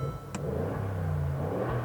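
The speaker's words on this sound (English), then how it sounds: "the engine sounds just like the 4-liter bi-turbo in a lot of AMG products" A 2018 Mercedes-Benz G550's 4-liter bi-turbo V8 revs up, giving a deep, steady, close engine rumble with a brief high blip early on and no talk.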